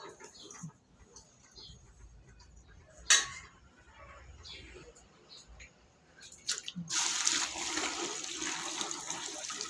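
Water is poured over pearl millet grains to soak overnight, a steady close rushing splash that starts in the last few seconds after quiet, scattered kitchen noises and a brief clatter.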